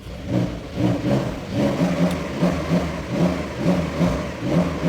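A Porsche Carrera sports car engine revs near the listener in a parked setting, with several throaty pulses rising and falling over a steady low rumble, and no talking.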